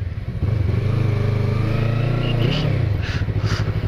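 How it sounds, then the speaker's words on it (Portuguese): A Yamaha MT-03 motorcycle revved hard up close. The deep engine drone holds steady, then climbs in a quick rise before dropping back to a lumpy idle. "E a Yamaha MT-03 acelerando forte pra vocês."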